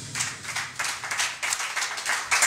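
Church congregation claps in steady, rhythmic unison, acclaiming Jesus during a sermon, with bright continuous hand claps filling the room.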